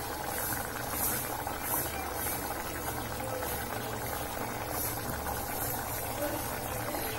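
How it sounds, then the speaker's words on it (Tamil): A pot of bitter gourd tamarind gravy boils hard, with dense bubbling and popping, fairly close and steady throughout. "நல்ல கொதிக்குது குழம்பு."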